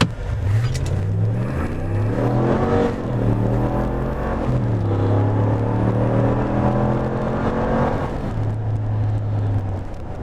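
A 2019 Ram 1500 Laramie Longhorn 4x4 pickup with the off-road package accelerates hard from a standstill to 60 mph. The engine note climbs steadily through several gear shifts, loud and close from inside the cab, with no talk.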